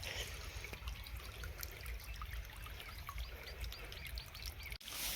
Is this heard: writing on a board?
no